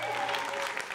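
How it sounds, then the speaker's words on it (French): An audience at a live French-language show applauds in a steady patter of clapping, with a voice speaking over it. "applaudissez Boris."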